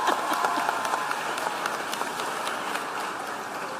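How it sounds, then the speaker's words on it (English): A crowd claps steadily, a dense spray of hand claps that stays even throughout, with a few louder claps standing out and no talking. "you may clap"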